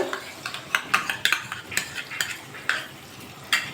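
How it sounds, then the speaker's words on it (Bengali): A spoon stirs spices into sour yogurt in a pan on low heat for a yogurt-eggplant dish, tapping and scraping the metal in a quick, irregular run of close clinks over a faint simmer. "ভালো করে মিশিয়ে নেবো দইয়ের সাথে মশলা"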